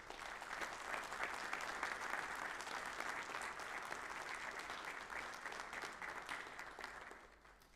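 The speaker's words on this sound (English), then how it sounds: "I'd like y'all to give her a round of applause for her work on this." An audience at a school district board of trustees meeting gives a sustained round of applause, steady dense clapping from a room of people that fades slightly at the end.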